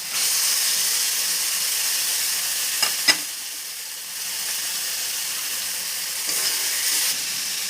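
Chicken pieces for butter soya chunks chicken sizzle loudly in a hot pan, a dense steady hiss close up, broken by a couple of sharp clacks and a brief dip before the frying resumes.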